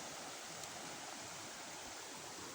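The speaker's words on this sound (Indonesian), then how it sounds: "Nah, ini sumber air mengalir" Spring water flowing near the Cinangsi bridge on its way toward the Citarum river makes a faint, even, continuous hiss, steady throughout with no voices.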